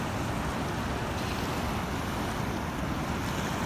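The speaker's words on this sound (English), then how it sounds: "So I'm on the beach, here comes the water." Ocean waves wash onto a beach in a dense, continuous rush of surf and wind noise, loud and close, with no voices.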